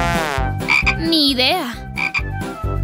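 A frog croaks loudly and close in a quick repeating series of raspy pulses, with a brief spoken line over it.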